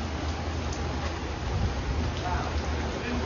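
Steady rain falling on a New York City street, a dense continuous hiss of drops close by with a faint low city rumble beneath.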